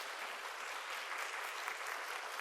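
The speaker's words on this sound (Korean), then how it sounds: "박수로 축복해 주시기 바랍니다." Dense, steady applause from a church congregation during a Sunday service, blessing graduates of a training course; continuous clapping throughout, moderately loud with no voices on top.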